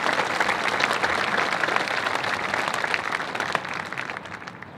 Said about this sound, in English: Let's give them a round of applause for all the behind the scenes work.